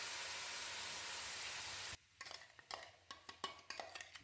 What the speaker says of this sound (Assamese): তাৰপিছত গেছৰ ফ্লেমটো হাই কৰিয়ে মই এইখিনি লৰাই দি উতলিবলৈ দিলোঁ।